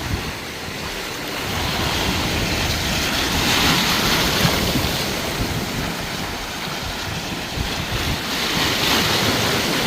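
Steady ocean waves and surf wash in continuously at the Wangpicheon river area, with heavy wind buffeting the microphone and no voices over the roar.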